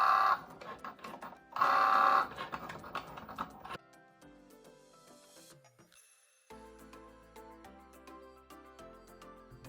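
A Cricut Joy cutting machine cuts a card, giving a close series of mechanical clicks and motor whirs that fade into quieter, intermittent buzzing as the carriage moves.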